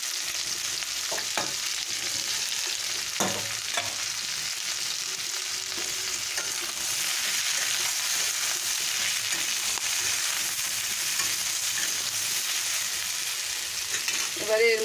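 Eggplant and potatoes fry in a pan for a water spinach dish, a steady close sizzle with occasional spoon knocks and stirring scrapes, loud and unbroken throughout.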